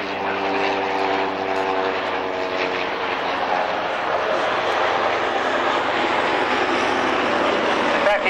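A German reconnaissance propeller aircraft at a military airshow at Old Warden drones steadily overhead, its engine tone shifting slightly as it passes, loud and continuous with a commentator talking over it.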